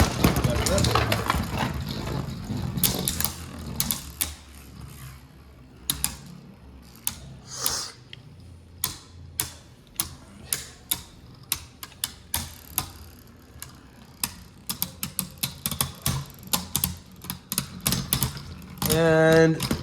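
Beyblade Burst spinning tops, Kerbeus K5 and Behemoth Cyclops C5, clash in a plastic stadium with a string of sharp, irregular clicks and knocks over a steady whirring hum, with talking heard early on.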